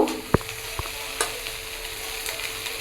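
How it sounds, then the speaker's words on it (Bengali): Turmeric, Kashmiri chilli powder and cumin powder are stirred in a frying pan over a continuous sizzle, with a couple of sharp spoon taps early on and lighter scraping after. "এবার মশলাগুলো ভালো করে নেড়ে চেড়ে মিশিয়ে নেব"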